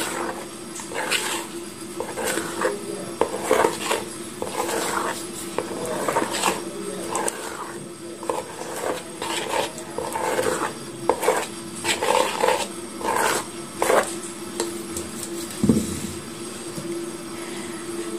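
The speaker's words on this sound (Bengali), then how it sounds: "আবার মিশিয়ে নিচ্ছি।" Batter is mixed in a bowl with repeated scraping and clinking strokes in an irregular rhythm, loud and close, with one sharper knock near the end.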